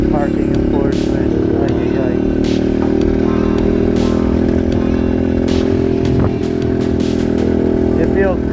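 Lightest supermoto motorcycle's engine droning steadily underneath while riding on the road, a loud continuous hum with some clatter and wind, with a person talking over it throughout.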